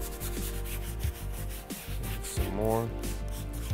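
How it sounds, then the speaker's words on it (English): A brush scrubs cleaner into a fabric convertible top, rapid rhythmic bristle rubbing and rasping close up, while someone speaks briefly over it. "Now I want to scrub and agitate any debris and grime"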